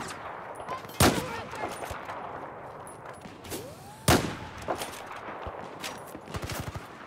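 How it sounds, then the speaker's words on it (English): Gunfire in the video game Battlefield 4 on the Suez map, with two loud sharp shots standing out over a busy stretch of scattered distant gunfire and smaller pops, and no talking. "Who else is shooting me?"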